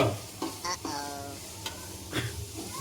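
Onions fry in a pan with a soft sizzle while being stirred, giving a few scraping strokes over a short stretch. A brief voice-like tonal sound is heard in the middle.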